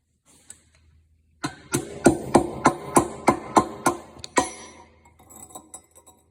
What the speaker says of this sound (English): We just got to hit this with a hammer.